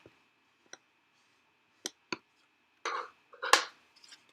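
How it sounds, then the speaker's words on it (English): Designer Series paper being folded by hand for a springtime party favor: a few faint, separate crisp creases and rustles against near silence, ending with a slightly louder crinkle. "I'm going to fold it back towards the front"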